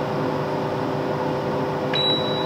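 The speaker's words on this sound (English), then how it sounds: "It's not as loud as other sort of air fryers that I've used so far." A HYSapientyia air fryer oven running with a steady low fan hum and mechanical drone, then a sharp electronic beep near the end.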